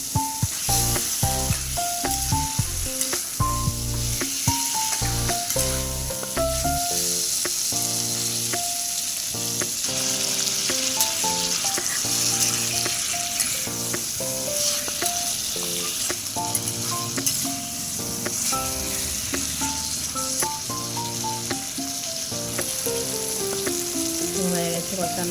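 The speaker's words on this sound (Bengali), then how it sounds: "ভালো করে একটু মশলার মধ্যে দিয়ে আলু পটলগুলোকে ভালো করে কষিয়ে নিচ্ছি।" Potato and pointed gourd pieces frying in spices sizzle steadily throughout, with occasional stirring, heard beneath continuous background music.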